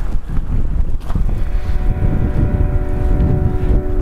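Strong gusting wind from Storm Gareth roars over open Lake District fell country, a loud continuous buffeting rumble blasting straight into the microphone with no voices.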